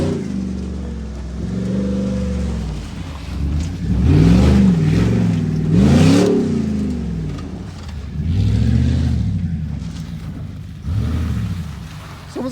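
A Ford Raptor truck with a 6.2L V8 revs and accelerates outdoors, its engine note rising and falling in long loud surges for over ten seconds, with excited voices and shouting mixed in.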